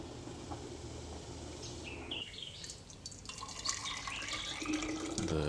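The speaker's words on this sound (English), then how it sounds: "now pouring it into some sterilized jars" Thick boiled wild plum pulp is poured from a pot into sterilized glass jars, giving a soft, close, continuous liquid pour with a brighter splashing trickle as the jar fills.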